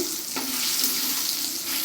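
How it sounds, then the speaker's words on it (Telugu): Dried red chillies crackle and sizzle in about four tablespoons of hot oil in a pan, a steady close hiss with faint popping throughout and no talk. "పోపుకి ఆయిల్ వేడయ్యాక ఎండుమిర్చి పోపు చేసుకోవాలి."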